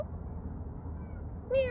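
A cat gives a single short meow at close range near the end, following a quiet stretch of low background hum.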